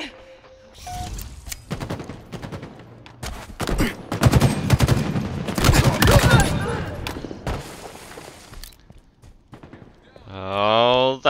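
Rapid gunfire bursts in a Halo Infinite tactical slayer match, dense volleys of shots packed through the middle seconds, with a player's voice talking over the action.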